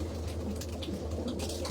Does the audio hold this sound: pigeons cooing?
yes